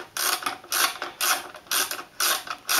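Socket ratchet undoing the nuts on a CDM 9 CD mechanism in a Naim NAC D 3, giving five bursts of rapid close clicking, each about a third of a second long, separated by brief pauses, with no voices.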